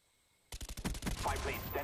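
Rapid automatic gunfire in Call of Duty Black Ops, starting abruptly after a half-second of near silence and continuing as a fast burst of shots, close and loud.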